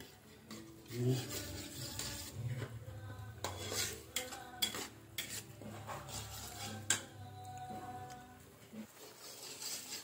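Spoon or spatula scraping and clinking against a pan while ingredients are stir-fried for sambal goreng kentang, a steady run of close metallic clatter and scrapes over a low background hum, with no talking.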